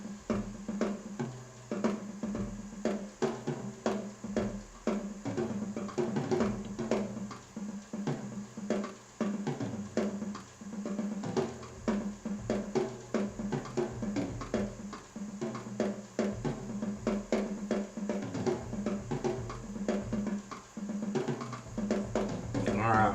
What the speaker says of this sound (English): here's the sound of this Ludwig kit sampled by the hands of Norman Gaschke from Toontrack